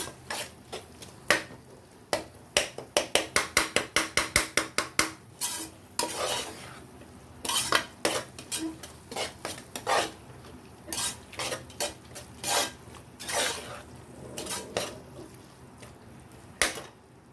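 A spoon scrapes and stirs tomatoes sautéing in oil in a pan for tomato rice, with a quick run of rhythmic metallic strokes, then slower irregular scrapes over a faint sizzle, close and clear.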